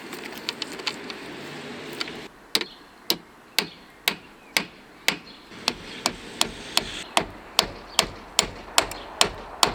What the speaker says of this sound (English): I'm just going to nail it up.